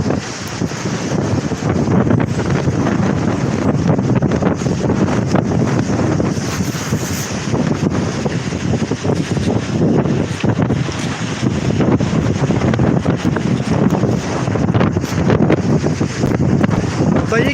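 Strong storm wind roars and buffets a microphone outdoors near a gurdwara in Kangniwal, a dense continuous gusting rush lasting throughout, with a voice faintly present beneath it.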